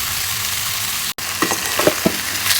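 Vegetables fry in hot oil in a home kitchen pan, a steady close sizzle with a few soft knocks from stirring and no talking.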